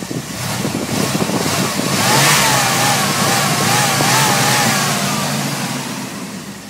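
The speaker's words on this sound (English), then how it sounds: "This is how your truck should be running. Running smoothly, no hesitations or misses, no rough idles" A steady truck engine runs at an even pitch, swelling slightly louder midway then easing off, with no sputters, misses or rough idle.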